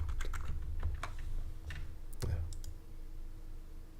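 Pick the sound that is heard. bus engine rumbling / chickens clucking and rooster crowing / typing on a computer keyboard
typing on a computer keyboard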